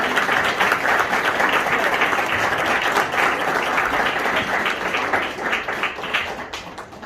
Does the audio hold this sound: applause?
yes